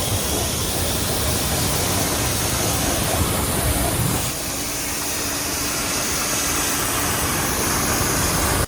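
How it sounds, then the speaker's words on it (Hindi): A pressure washer sprays water onto a Jawa Bobber motorbike, a loud, steady hissing rush of water that continues without a break, briefly dipping in intensity midway. "सबसे पहले हम पानी की प्रेशर से एक बार वॉश करेंगे।"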